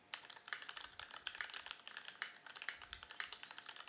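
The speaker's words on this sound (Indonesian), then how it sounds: "sekarang gua coba ngetik di keyboard Gateron Yellow" Rapid, irregular keystrokes on a mechanical keyboard fitted with Gateron Yellow switches, a steady run of crisp clicks and clacks picked up faintly by a Logitech G733 Lightspeed headset microphone, with no voices.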